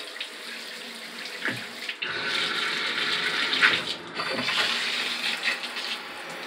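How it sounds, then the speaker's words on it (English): Cold water gushes steadily from a newly installed Danco universal tub spout, a strong continuous splashing rush that briefly cuts off and resumes. "The cold water is coming a lot."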